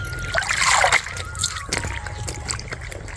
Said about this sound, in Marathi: अशी कांदा टमाट आता मस्तपैकी मी पाण्यातून धुवून घेते.